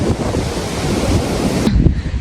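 Rough sea surf breaking continuously on a beach, a loud broadband roar with gusty wind buffeting the microphone throughout, briefly dipping near the end.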